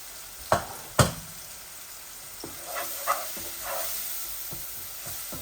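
Leaves being fried in a pan with turmeric give a steady soft sizzle, broken early by two sharp utensil knocks against the pan and a few lighter taps and stirring scrapes later.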